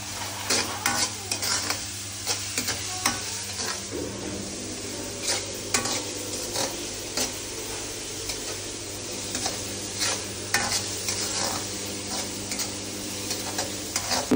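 Ingredients for pancit are sautéed in a pan, a loud ongoing sizzle broken by frequent clattering stirs and scrapes against the metal, with no voices.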